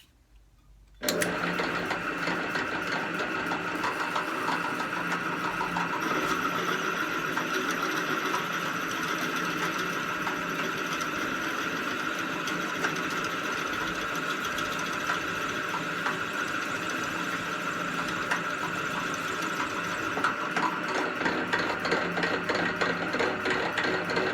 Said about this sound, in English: So we'll go ahead and drill the rest of the hole.